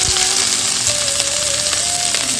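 Onions fry in two tablespoons of oil with cumin seeds in a kadai, giving a steady, loud, close sizzle with no talk.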